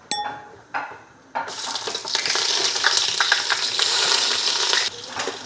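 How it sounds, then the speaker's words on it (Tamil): Cinnamon and cloves hit hot oil with a loud, steady sizzle, followed by onions being sautéed for shrimp biryani, the crackle broadband and continuous after a brief quieter start, with occasional stirring clinks and no talking. "இப்போ வந்து நம்ம பட்டை லவங்கம் உள்ளே போட்டு அப்படியே வதக்க போகிறோம்"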